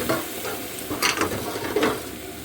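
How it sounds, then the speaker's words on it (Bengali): Onions, vegetables and chicken fry in a pan for chow mein. A steady close sizzle runs throughout, with a few sharper scraping bursts from stirring and no voices. "এখন পেঁয়াজটা দিয়ে ভালো করে আবার ভাজতে হবে সব সবজিগুলো, চিকেনগুলো।"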